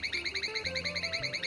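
Toy capsule nurse-call button plays a short electronic chime melody, a rising run of tones over a fast warbling trill, close and clear with no talking.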